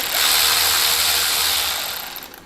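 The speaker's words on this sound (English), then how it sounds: "I'm going to pinch the switch housing together when we remove this last bolt." A power tool whirs for about two seconds, close and loud, backing out the last bolt from a motorcycle switch housing during a Softail fairing install, then winds down.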